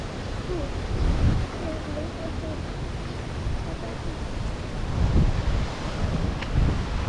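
Wind blows across an outdoor garden plot before rain, a steady broadband rumble buffeting the microphone with a few stronger gusts swelling and fading.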